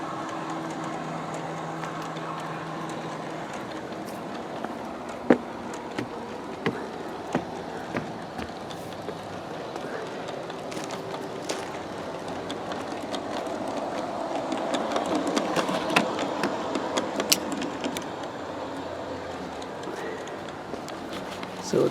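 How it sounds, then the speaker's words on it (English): An 18-car BNSF G scale model train runs along a backyard track as it climbs to the upper level, giving a steady, faint rolling rumble with light clicks over soft outdoor ambience. "So the train is snaking up to the upper level"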